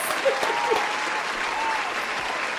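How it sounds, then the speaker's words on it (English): A canned applause sound effect plays on a live stream, a steady wash of crowd clapping and faint cheering that runs evenly throughout at a moderate level. "my applause isn't working"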